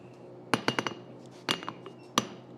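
Hammer blows ring on hot steel at an anvil while drawing out stock during a forging session: a quick cluster of sharp metallic strikes, then two more isolated hits, close and bright with ringing decay.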